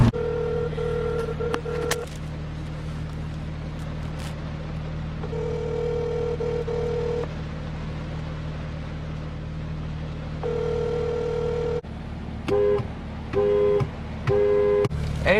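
A telephone rings in repeated bursts with gaps between them, over a steady low engine hum from a car meet, with a faster tone pattern near the end.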